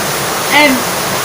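Waterfall in Meghalaya, India, a steady broadband rush of falling water with a brief voice rising over it midway.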